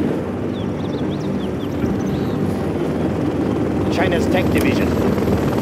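A Helix helicopter in the real-time strategy game Command & Conquer whirs with a steady rotor drone beneath a spoken unit line and short electronic chirps.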